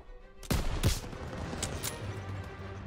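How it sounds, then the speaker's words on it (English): Two loud, close gunshots crack in quick succession during WWII video game combat, followed by fainter scattered shots and rumble in the background. "They're taking fire from behind!"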